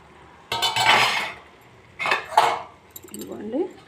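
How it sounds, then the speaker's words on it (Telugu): A lid comes off a cooking pot holding a broad bean and bitter gourd curry, making two bright metallic clinks and scrapes close by, followed by softer rattling. "మూత ఎత్తున్నాను చూడండి"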